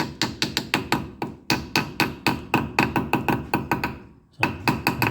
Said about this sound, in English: I'll get my trusty light duty ball peen hammer